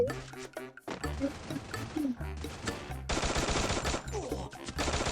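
Gunfire in the Free Fire mobile game comes as dense bursts of rapid shots mixed with game effects, fairly faint, with people talking excitedly over it.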